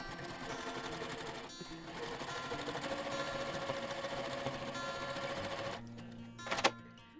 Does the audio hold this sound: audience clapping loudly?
no